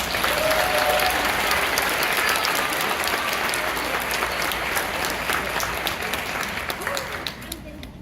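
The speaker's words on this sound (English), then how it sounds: "Let's give them all a round of applause." Applause for honored nursing students at a pinning ceremony, a dense sustained clapping from a large audience that holds steady for most of the stretch, then thins and fades near the end.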